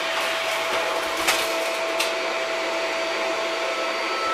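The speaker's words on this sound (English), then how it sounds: "Good old vacuum." A Shark vacuum cleaner runs nearby with a steady, loud whining drone and a couple of brief knocks, and no one speaks.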